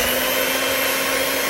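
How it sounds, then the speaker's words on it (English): An electric mixer whirs at medium-high speed blending chocolate cake batter, a loud, steady motor drone with a constant pitched hum and no breaks, close up and without any talking. "Now we're going to get our mixer and"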